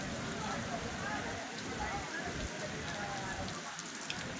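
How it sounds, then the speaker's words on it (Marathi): Heavy rain pours down in a dense, constant roar of drops striking surfaces, steady and close throughout with no pauses. "पूर्ण पाऊस हे बघा"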